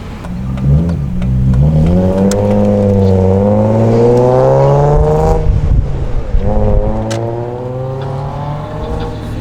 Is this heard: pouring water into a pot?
no